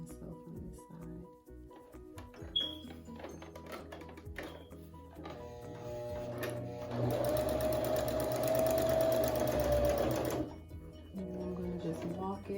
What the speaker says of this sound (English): I'm going to sew from this side.